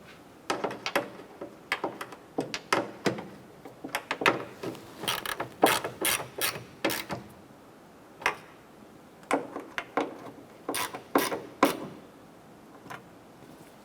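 A ratchet clicks in bursts of rapid ticks while nuts are snugged down on an Acura TL hood molding, close and quiet, with short pauses between runs.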